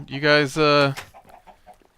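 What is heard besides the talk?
chickens clucking in the video game Minecraft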